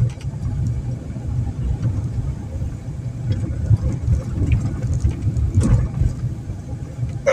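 Steady road traffic on the DW934 in Chełm Śląski, where roadworks are under way, forms a continuous low engine rumble at moderate loudness with no distinct pass-by peaks and no voices.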